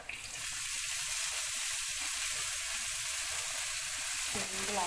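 Loud, steady sizzle of spinach leaves frying with crushed chilli in a pan, a continuous hiss with a brief stir near the end.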